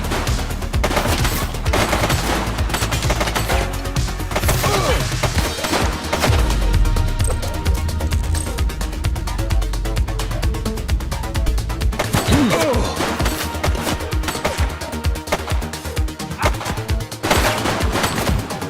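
Gunfire in the video game The Precinct, with near-continuous rapid automatic bursts and scattered heavy shots crackling loudly throughout, dense and chaotic with brief thumps and swells mixed in.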